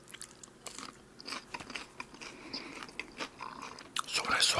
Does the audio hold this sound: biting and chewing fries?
yes